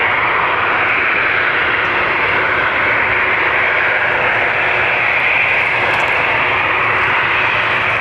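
Ryanair jet airliner arriving from Athens at Dublin Airport, a loud, steady broadband engine roar holding close and constant throughout without any talk.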